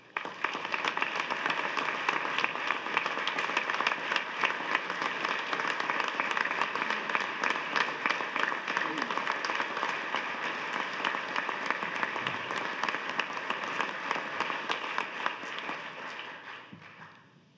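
A large audience breaks into sustained applause at the 2019 Nebraska State of the State address, steady clapping for about sixteen seconds before tapering off, with no speech over it.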